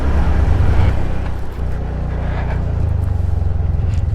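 Vehicles on a group ride from Guwahati toward Bomdila and Tawang in extreme winter: a loud, close, steady engine rumble with a slight dip partway through, with no voices.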